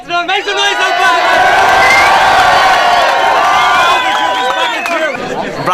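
A rap battle crowd cheers, whoops and shouts in a loud, sustained roar of many voices that swells and holds for several seconds before easing off.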